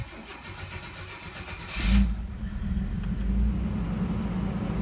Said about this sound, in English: I do the initial crank to kind of prime the fuel system a little bit